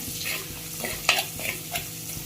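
Curry leaves and a green chilli frying in oil for a fish curry, crackling sizzle punctuated by sharp pops and spatula scrapes at an uneven rhythm, close up; nobody speaks.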